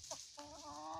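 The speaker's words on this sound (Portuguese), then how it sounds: "Aquela galinha ali, ó. Uma choca que tá aqui." A broody farmyard hen clucks close by, with a short grunt and then a longer, throaty, warbling cluck, clear against a quiet outdoor background.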